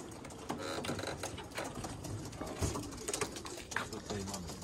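Racing pigeons at a loft before training flights, a dense chorus of cooing and calls mixed with wing flutters and busy background noise, steady and fairly near throughout.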